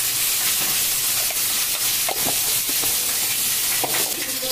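Cumin seeds sizzle in hot oil alongside turmeric and chili in a home kitchen preparing coral fish curry, a steady bright crackling hiss with faint stirring clicks running throughout.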